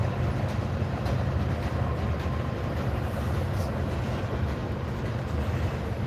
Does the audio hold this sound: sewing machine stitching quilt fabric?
no